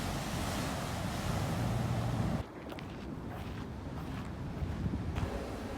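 Ocean surf rolls onto Faria Beach in strong wind, a loud, close wash of waves and gusty roar that drops briefly before resuming steadily.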